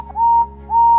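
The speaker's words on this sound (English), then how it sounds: "using Henry's whistle, he gave the special signal that meant he wanted help getting up the hill" The whistle of Henry, a steam engine, sounding a special signal: two sustained, clear whistle blasts separated by a short break, loud and close with nothing else over them.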